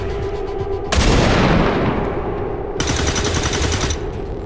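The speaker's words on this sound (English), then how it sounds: "I shoot whatever moves, right?" Gunfire in XCOM 2, a sudden loud burst of rapid automatic shots followed by a second sustained volley, set against a low ambient game background.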